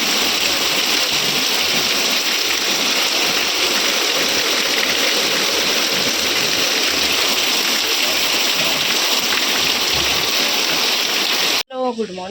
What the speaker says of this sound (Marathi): लय जोराचा पाऊस आलाय.